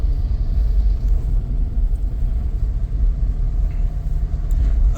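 A vintage station wagon cruises at speed, its steady engine and road rumble filling the cabin with a loud, continuous low drone and no talking.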